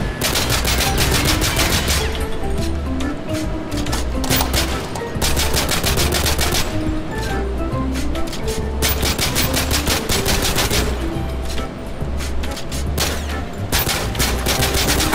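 Rapid bursts of automatic gunfire from a sniper video game as ammo is emptied, loud continuous volleys with short pauses and a steady low thumping underneath throughout.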